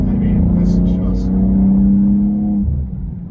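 Turbocharged engine of a 2024 BMW M2 with manual gearbox, a loud, steady, deep engine drone that holds for about two and a half seconds, then drops away.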